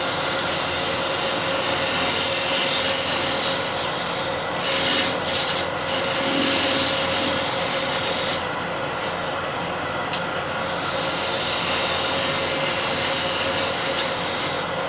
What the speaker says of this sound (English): So that's using scraper flat